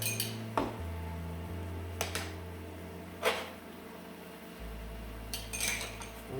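A knife works through a cooked, peppercorn-crusted New York strip steak done medium rare, giving a few faint scraping cuts and light clinks against a plate over a low steady hum, with no talking.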